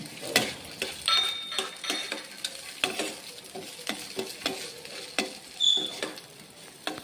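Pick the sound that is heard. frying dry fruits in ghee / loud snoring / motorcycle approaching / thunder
frying dry fruits in ghee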